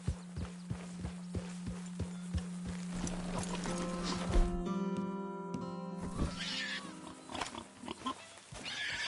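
A horse in Red Dead Redemption 2 breaks into a gallop, with steady rhythmic hoofbeats, a whinny in the middle and a brief low voice between the clops.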